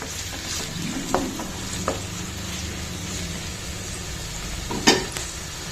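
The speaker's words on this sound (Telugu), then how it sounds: "ఇవి మంచిగా ఫ్రై అవనివ్వాలండి, మంచి కలర్ వచ్చే వరకు ఫ్రై అవనిద్దాం." Chopped onions fry in a hot pan, giving a steady sizzle, while a spoon now and then scrapes and stirs them with a few sharp clacks. One louder knock comes near the end.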